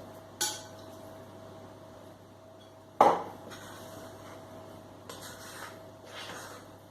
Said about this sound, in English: just stir it all together so it comes all together